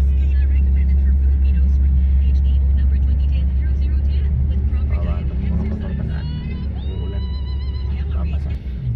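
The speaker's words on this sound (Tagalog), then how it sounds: "traffic ngayon dito sa may San Leonardo" Road traffic in San Leonardo, heard from inside a vehicle as a steady low engine and road rumble, with passing cars and a faint horn-like tone near the end, under ongoing talk.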